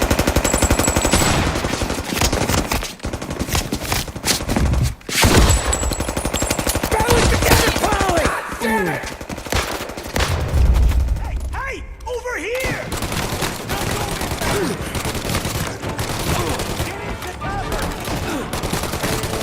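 Sustained gunfire in the gangster video game Mafia: long bursts of rapid shots and machine-gun fire, loud and dense throughout, with a brief lull midway and game voices speaking occasionally over the shooting.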